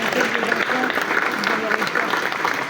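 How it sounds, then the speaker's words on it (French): Applause from the audience at a municipal New Year's greetings ceremony in Aulnay, with young people in the upper seats clapping steadily while voices and crowd chatter carry on through it. "Applaudissez-vous là"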